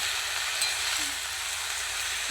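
Greens fry on a coal stove with a steady, dense hiss of sizzling oil and moisture, even and close throughout with only a faint utensil tap.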